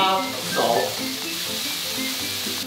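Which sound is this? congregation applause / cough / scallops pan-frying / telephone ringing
scallops pan-frying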